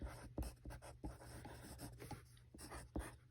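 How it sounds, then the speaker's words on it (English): Faint, close scratching and tapping of a pen or pencil writing a sentence by hand, with short strokes and small taps in an uneven rhythm in a quiet room. "I'm just going to write it for you."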